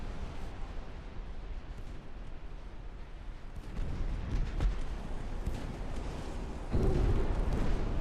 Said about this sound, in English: 2 torpedo hits!